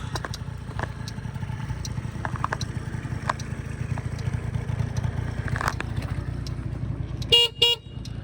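Two quick horn toots from a Suzuki Lets 2 two-stroke scooter sound near the end, following a steady idling engine hum with occasional clicks.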